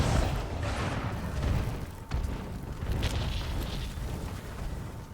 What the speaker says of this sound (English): Like, he's gonna explode.